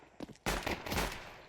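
A pistol kill in Counter-Strike, with a couple of faint shots followed by a loud, sharp report that decays over a second, heard alone without talk.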